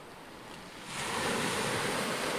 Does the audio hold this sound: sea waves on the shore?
yes